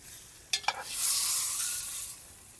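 Osso buco veal shanks brown in a hot pan with a steady, close sizzle, briefly marked by a couple of sharp pops or clinks near the start.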